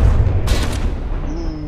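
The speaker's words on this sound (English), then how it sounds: "that was a hit right to the top of that turret" A shell striking the top of a tank turret in a battle game, one heavy booming impact with a sharp crack, followed by a fading rumble and a faint rising whine.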